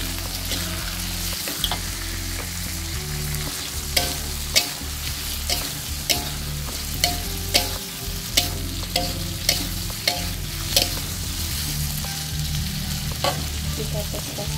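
A tomato and egg dish sizzles in a pan after a little water is added, with steady frying hiss and regular scraping strokes of a spatula stirring at close range.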